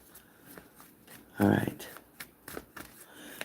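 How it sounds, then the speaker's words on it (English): Tarot cards being shuffled during a live reading, with one brief, loud riffle burst in the middle and softer card handling around it, under a voice speaking quietly. "Shuffling, shuffling, shuffling."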